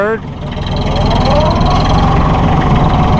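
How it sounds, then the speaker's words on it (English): A 2008 Massey Ferguson 1533 compact tractor's small Iseki engine idles up close, a steady low, even hum holding for a few seconds. "Listen to that little Izeki engine purr, man."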